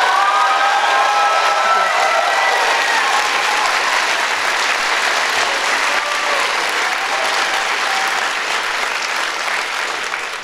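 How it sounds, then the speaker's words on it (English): Loud, sustained applause from a large audience at a public speaking event with police and security present, dense clapping filling the whole stretch with a few scattered whoops and cheers, tapering only slightly at the end. "A round of applause."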